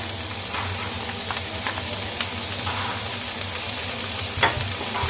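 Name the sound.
sautéing chilies for Taiwanese beef noodle seasoning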